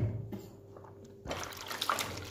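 Dishes being washed under running water at a sink, a quiet trickle and light splashing that grows a little fuller partway through, with no talking.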